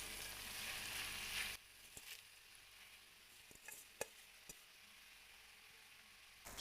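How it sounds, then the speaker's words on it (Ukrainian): Spinach sizzles as it fries in butter in a hot pan, loud at first then quieter, with a few sharp clicks and scrapes of stirring. "Обсмажуємо шпинат на маслі 3 хвилинки."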